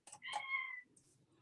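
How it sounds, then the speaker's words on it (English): A single cat meow, fairly faint and somewhat distant, followed by quiet background noise. "You might hear my cat meowing in the background."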